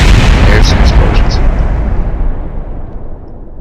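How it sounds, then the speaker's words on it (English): Explosions in the Kerbal Space Program video game during a Duna base build: one loud, deep blast that rumbles and fades away over a few seconds. "There's some explosions."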